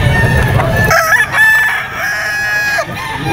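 A rooster crows loudly and close by, its long strained call stretching across most of the moment, with faint background noise and no voices.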